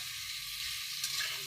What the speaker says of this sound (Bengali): পেঁয়াজ পাতার সঙ্গে ভাজা হবে,